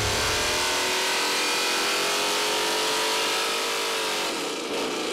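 A Chevy crate 427 V8 on an engine dyno, fitted with a 1,000 CFM Holley Ultra HP carburetor, screams at high rpm in a loud, sustained pull, its pitch sweeping gradually upward before dipping near the end.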